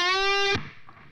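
A single distorted electric guitar note bends upward and rings loudly for about half a second, then stops abruptly, leaving faint background noise.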